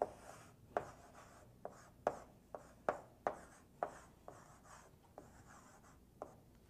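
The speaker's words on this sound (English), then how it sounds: "go ahead and write my function in" Pen writing by hand while working a multivariable calculus problem, a series of sharp strokes and taps spread irregularly across the stretch, close and fairly clear, with no voices.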